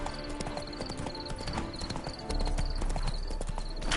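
Horse hooves clip-clop in a steady rhythm while riding in The Witcher 3: Wild Hunt, loud and continuous over game music with repeating high tones.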